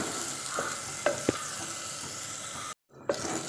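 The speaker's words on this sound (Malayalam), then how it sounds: "ഇതൊന്ന് നല്ലപോലെ ഇളക്കി കൊടുക്കാം തക്കാളി ഒന്ന് നല്ലപോലെ വെന്ത് വെക്കും" Tomatoes sizzle in a pan, with a soft steady crackle close by and a few sharp scrapes and clicks from stirring. The sound cuts out briefly before the sizzle returns, and no voices are heard.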